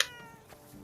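A cat in the video game Forspoken lets out one short, bright meow at the very start, followed by a low, murky game ambience.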